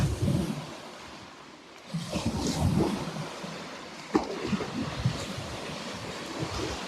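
Surf breaks and washes along a shore beside a brook, with a heavy wooden log shifted about by the water; a steady, roaring wash with wind noise swells in surges and carries on continuously throughout.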